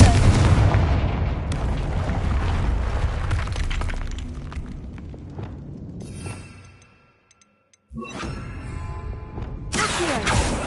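A Confringo blasting spell goes off in a wizarding video game with loud booming, shattering bursts and crackling debris. The sound fades to near silence, then returns with another blast.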